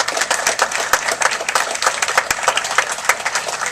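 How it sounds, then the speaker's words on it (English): A school-district audience applauds teachers and support staff with loud, dense, sustained clapping filling the whole stretch on its own. "give them a big round of applause"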